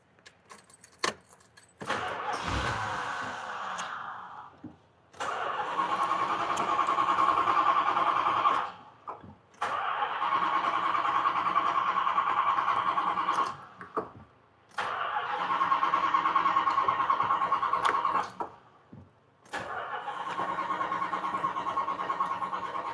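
A Winnebago motorhome's engine cranks over in four long, even bursts after a fuel pump replacement, with keys jangling at the start and short pauses between attempts.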